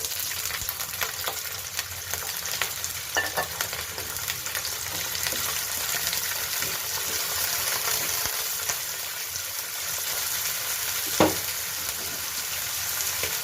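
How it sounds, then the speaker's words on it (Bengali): Fish sizzle and crackle in hot oil in a pan for a mixed-fish mash, with steady frying hiss and scraping stirs and occasional sharper taps of the spatula, loud and close without talk. "এটা একটু এই যে দেখুন ভাজা ভাজা হয়ে গেছে, বেশি ভাজবো না।"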